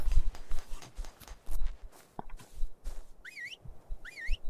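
In the game ARK: Survival Evolved, a character gives two short rising whistles, each a quick wavering trill. Thudding footsteps and rustling movement sound around them.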